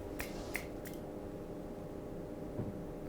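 A few sharp finger snaps in front of a baby come in a quick cluster of three near the start, then one fainter snap follows after a pause, over quiet room hiss.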